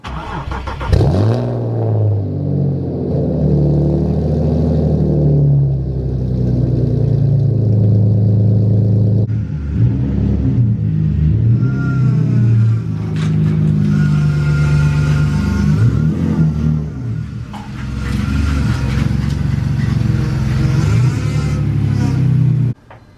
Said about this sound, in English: About to get a little cold start in.